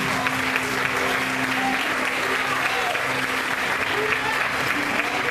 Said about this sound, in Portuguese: Glória a Deus, vamos aplaudir ao Senhor bem forte.